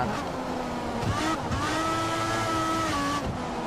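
F1 race car engines in the F1 2014 game at the Belgian Grand Prix, a continuous loud high-revving whine with rising and falling pitch through gear shifts, steady and close throughout.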